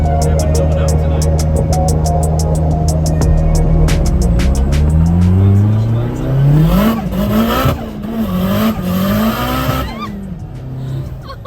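A Toyota JZX100 Chaser with little grip spins its wheels, engine revving and climbing in pitch with squealing tyres, loud and close, then easing off, with people talking over it.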